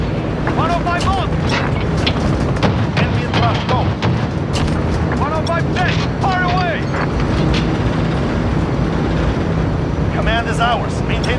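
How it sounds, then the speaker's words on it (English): Heavy booming explosions from bombs in a military shooter game roll continuously under loud gunfire and battle noise, with radio chatter and voices speaking over the din. "One of my bombs!"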